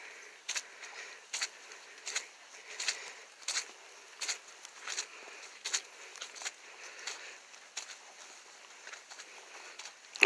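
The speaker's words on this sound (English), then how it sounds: "I think this is the first rain that we've gotten in about 5 weeks." Rain falling in hilly Louisiana woods after a long dry spell, heard as a steady soft patter with irregular louder drips and splats, close by and without voices.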